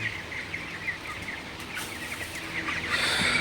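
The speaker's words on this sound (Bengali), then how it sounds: "আজকে হচ্ছে আমার ব্রয়লার মুরগির বয়স চব্বিশ দিন" Broiler chickens, twenty-four days old, in a poultry shed in the early morning, giving soft, continuous high peeping and chirping calls over a low background hum.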